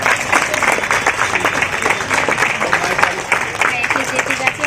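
Loud, sustained audience applause for guests of honour at a gathering in Aurangabad, a thick continuous clatter of many hands from start to finish.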